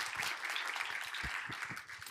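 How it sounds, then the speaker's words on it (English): An audience at a nuclear nonproliferation conference claps for the incoming session chair, a dense, steady patter of many hands at moderate distance that tapers slightly near the end. "So let's welcome him with a big applause"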